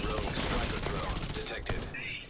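Rapid gunfire from the video game The Division 2 rattles loud and close in dense overlapping bursts, thinning out near the end as a brief whistling tone rises.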